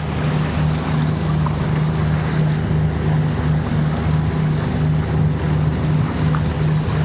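Outremer 48 catamaran under sail at sea near Marseille in light wind, with a steady, constant rush of water and wind noise and a low hum throughout, close and even, with no talk.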